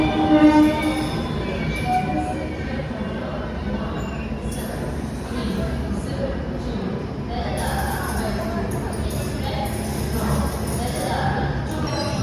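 A public-address announcement for platform 3 rings out across a busy railway station, a steady amplified voice over constant crowd murmur and train-yard rumble.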